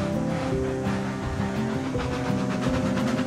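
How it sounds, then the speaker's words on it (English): A steam train in the Railroads Online game chugs along a track toward a steep climb, its steady rolling rumble and clanking carried continuously, with no voices. "So let's just run this train up here."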